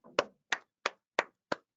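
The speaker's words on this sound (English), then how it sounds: "I'm clapping for myself." Five sharp hand claps, evenly spaced and fairly close, ringing out alone in a quiet room, a person applauding themselves during an online ACCA exam-prep webinar.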